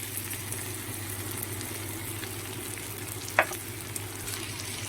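Spices tipped into a pan of fried onions give off a steady, even sizzle that holds throughout. One sharp clink of a utensil lands near the middle.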